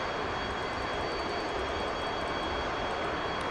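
McDonnell F-4 Phantom jet engines running steadily in the DCS flight simulator, a loud, dense, continuous roar with a high whine on top, unchanging throughout with no talk.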